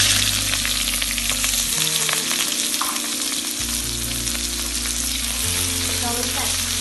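Onions sizzle loudly in a hot pan while a Malaysian sweet soy sauce chicken dish is cooked, a steady close hiss of frying with stirring running throughout and no talk.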